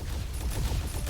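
A burst of mecha gunfire from the game Super Mecha Champions, a rapid rattling volley heard close and loud with no voice over it.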